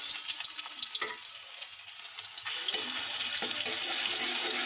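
Garlic and spices hitting hot oil for prawn fritters: a bright, steady sizzle that surges partway through and then holds loud and continuous, with small crackles and spatters close by.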